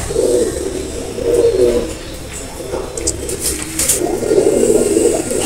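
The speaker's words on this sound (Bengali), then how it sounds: "দুটাই ভুচাল কবুতর, রানিংয়ে ওড়ে, মাশাআল্লাহ অনেক ভালো ওড়ে" Running flying pigeons coo in a loft, with repeated low throaty coos in two bursts at the start and end and a pause between, close and fairly loud over background rustle.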